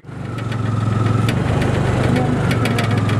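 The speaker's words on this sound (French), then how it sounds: "nous nous entassons à l'arrière d'un petit taxi-moto pour nous rendre au centre Salam." Small motorcycle taxi engine running steadily on a street in Cairo's ragpickers' district, a continuous close mid-pitched drone with a rapid throb from start to finish.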